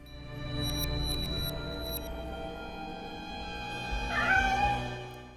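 A black cat gives a single drawn-out, eerie meow near the end of a horror film scene, rising over a quiet, tense background hum.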